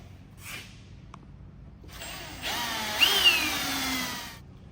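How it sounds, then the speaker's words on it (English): A power drill with a step bit whines into a Mitsubishi Triton's metal guard, starting with a brief burst then a longer, louder grinding cut that rises in pitch before stopping. "So we'll drill that there and I'll start cutting it out."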